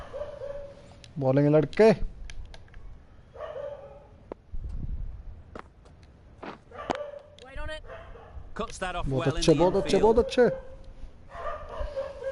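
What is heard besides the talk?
dogs barking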